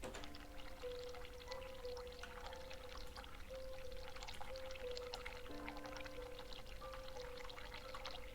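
Water pours steadily from a sink tap to fill latex-glove water balloons, a faint continuous stream that runs alone for the whole stretch under a few thin steady tones.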